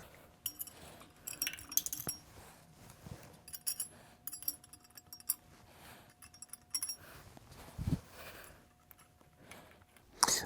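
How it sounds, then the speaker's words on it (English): Metal bolts clink and tick against each other and the housing as six bolts are handled and set into the holes of a Vemag HP-C/E four-point bearing housing, with scattered light jangles and taps and quiet gaps. "we're going to put these 6 bolts in."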